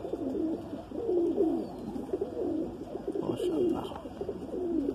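A Madrasi pigeon coos in repeated soft, rolling phrases, close and fairly loud, with a faint background hiss and no voices.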